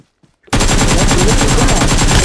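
Loud, close automatic gunfire from a video game bursts in after a brief quiet moment and continues as a dense, rapid stream of shots.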